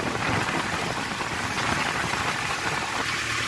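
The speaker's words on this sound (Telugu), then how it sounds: "బయట అయితే వర్షం పడుతుంది" Steady rain falling outside, a soft continuous hiss of drops with a faint low engine-like rumble beneath, heard near a JCB excavator during a first-time driving lesson.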